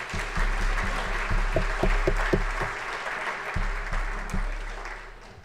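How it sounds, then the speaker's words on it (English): Audience applause at a John Carroll graduation ceremony, moderate clapping heard through a room with a low hum, some sharper individual claps standing out, fading slightly toward the end. "I'd really like to give those guys another round of applause for all the efforts they put in"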